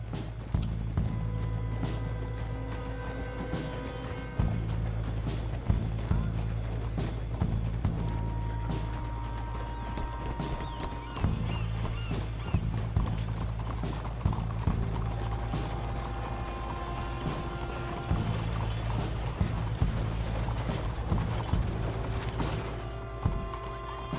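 Horse hooves in Red Dead Redemption II: a quiet, steady clip-clop rhythm over a low rumbling background with mechanical clicks, no voices.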